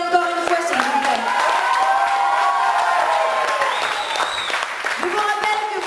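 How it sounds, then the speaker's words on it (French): Concert crowd at a live music contest clapping and cheering, with whoops and shouts above a dense, steady wash of applause; a loud tonal voice or feedback line runs through it. "Applaudissez-les encore une fois, s'il vous plaît."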